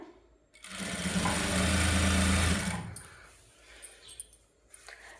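A normal sewing machine whirs steadily up close while stitching a saree fall, running for about two seconds before stopping, followed by faint handling clicks.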